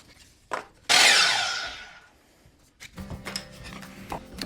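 A power saw rips through a wood piece in one loud, bright burst that tails off over about a second, with a short tap before it and quieter workshop handling noises and clatter afterward.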